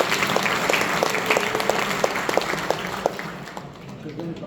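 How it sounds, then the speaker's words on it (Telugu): Audience applause at an orientation meeting for newly recruited faculty in Kalwakurthy, a dense, steady clapping that fills the room with sharp individual claps poking through, tapering slightly toward the end. "గట్టిగా చప్పట్లు కొట్టండి."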